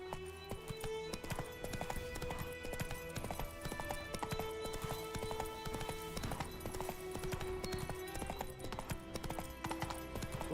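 Roach the horse from The Witcher 3 trots in a steady clip-clop of hooves, close and continuous, over layered game music with no talking.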